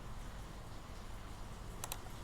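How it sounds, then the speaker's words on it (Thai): Ctrl R is pressed on a computer keyboard during 3D modelling in Blender, giving two quick, faint key clicks close together over a quiet room hum. "เรากด Ctrl R อยู่คีย์บอร์ดเนาะ"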